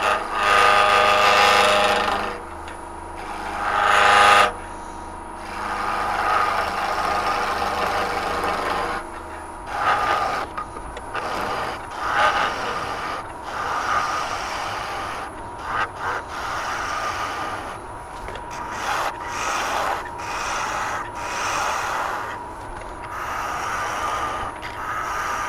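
A pen blank spins on a wood lathe for a hexagonal click pen kit, the cutting tool scraping and chattering in uneven bursts, louder and denser early on, then broken into shorter intermittent passes.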